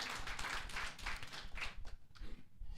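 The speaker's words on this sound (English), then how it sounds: "Let's give her a round of applause." Audience applause at a stakeholder review meeting on a forensic science bill: a brief burst of scattered clapping that thins out and fades within a few seconds, with no talking over it.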